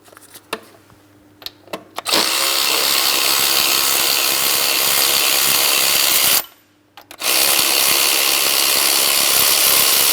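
A power tool, likely an impact wrench or ratchet, spins out an 18mm mounting bolt from a bracket on a 2003-2007 Cadillac CTS 3.6L V6, with a few light clicks, then two loud sustained bursts separated by a short pause.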